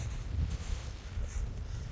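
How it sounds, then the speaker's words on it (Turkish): Low, rumbling wind buffeting the microphone on Ilgaz Mountain in deep snow, steady and gusty throughout with no voices. "Baya bir rüzgar var."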